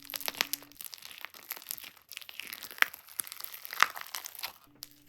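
White glue foam slime, scented gardenia, appleberry and peach, crunches and crackles steadily while being pressed, with dense close crinkling pops and a few sharper snaps and no talking.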